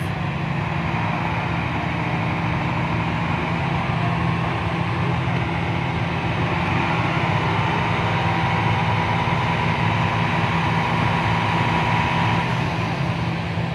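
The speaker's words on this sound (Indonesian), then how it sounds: "Bornya sudah mulai, sudah main ya, jelas." A drilling rig runs at a site in Parongil, giving a constant loud low mechanical drone and rumble that holds steady without a break.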